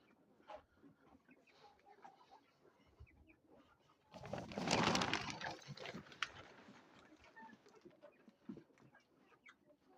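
Native desi hens cluck softly and intermittently nearby in a poultry shed, with a burst of rustling or scraping noise partway through in a quiet farm space.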